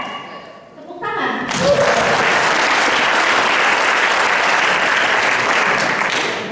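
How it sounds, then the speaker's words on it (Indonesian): Audience breaks into loud, sustained applause after a short spoken cue, the clapping swelling quickly and holding steady until it tapers at the end. "Tepuk tangan."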